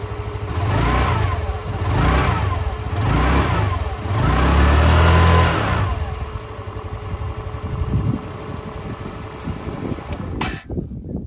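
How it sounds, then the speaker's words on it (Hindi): A Hero Xoom 125 scooter's exhaust rises and falls through several revs, a loud steady drone that swells and eases, then settles toward idle before cutting off near the end. "जो एग्जॉस्ट साउंड है वो मैं आप लोग को सुना दूँ।"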